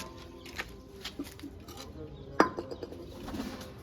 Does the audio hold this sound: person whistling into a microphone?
no